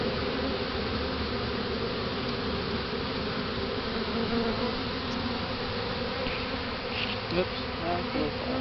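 Honey bees being removed from a wall and hived buzz in a dense, continuous swarm drone, loud and close throughout, with occasional individual bees passing nearer.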